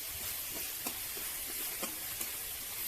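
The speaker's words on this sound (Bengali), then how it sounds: "জলটা এখন সবজিগুলো ঢেলে দেওয়া হবে" Vegetables, including ridge gourd, are tipped into hot spices in a pan and sizzle steadily, with a continuous frying hiss and a few soft clicks of stirring, close up and with no talking.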